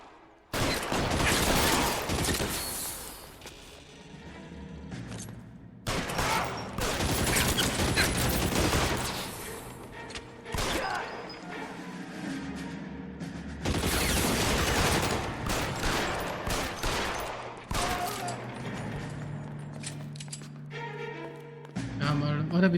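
Sustained gunfire in the video game L.A. Noire, dense bursts of shots running almost continuously for over twenty seconds with brief lulls, loud and close, with occasional voices underneath.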